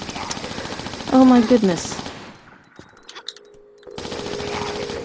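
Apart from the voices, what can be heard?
gunfire in Tomb Raider Temple of Shiva video game level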